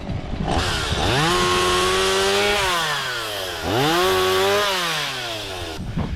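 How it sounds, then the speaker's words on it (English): A chainsaw cuts through thick brush along a farm fence line, its engine loud and close, rising and falling in pitch through two long revving cuts with no talking. "the hand cutter can't do it. You need a chainsaw"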